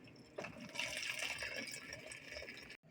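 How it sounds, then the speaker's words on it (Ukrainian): Boiling water, one and a half litres, pours steadily into a pot of bograch stew with a soft, continuous splashing gush that stops abruptly near the end; fairly quiet. "Потім додаємо півтора літра окропу"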